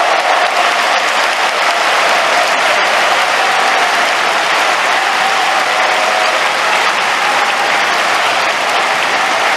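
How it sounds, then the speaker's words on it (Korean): A large congregation at an Easter church service applauds steadily to welcome the president, a dense, continuous wash of clapping at even volume throughout, with no talking. "나오실 때까지 뜨거운 박수로 우리 대통령 모시겠습니다"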